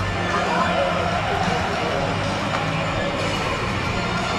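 A Liverpool football crowd fills the stadium in Kiev before the final, a steady wall of distant crowd roar and babble with no distinct cheers standing out.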